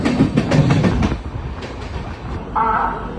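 A train rumbles and clatters over the tracks at Surat railway station, loud and close, with a steady mechanical tone rising near the end.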